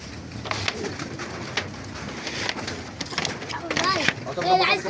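Pigeons coo repeatedly nearby in a rooftop pigeon loft amid rustling and flapping, with people talking over them.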